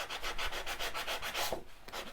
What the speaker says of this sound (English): you can also sand the edges